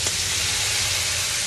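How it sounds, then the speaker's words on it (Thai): Shrimp, crab and squid stir-fried in a hot pan with garlic, giving a loud, steady sizzle that runs unbroken throughout with faint scraping of stirring underneath. "ผัดให้เข้ากันนะครับ"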